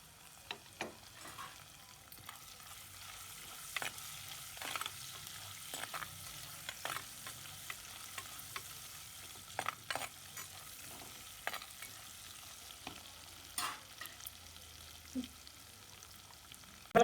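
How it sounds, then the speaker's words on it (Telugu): Green chillies and garlic fry in a pan as tempering for dal khichdi, a soft continuous sizzle broken by scattered clicks and scrapes of stirring, with no speech. "పచ్చిమిరపకాయలు వేస్తున్నానండి ఇప్పుడు."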